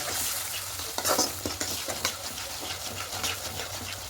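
Egg curry with sugar being stirred and fried in a pan, a steady sizzle broken by scraping stirs at an uneven rhythm, close by and moderately loud, with no talking.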